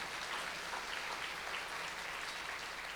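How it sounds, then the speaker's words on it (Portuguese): A church congregation applauds steadily throughout, a dense even wash of clapping at moderate distance with no speech over it. "Um aplauso ao Senhor"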